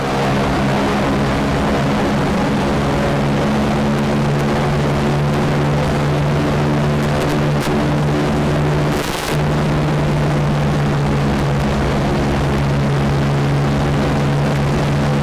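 The loud, steady drone of the Boeing B-29 Superfortress FiFi's propeller engines, heard from inside the aircraft in flight, hums on without pause and with no talking.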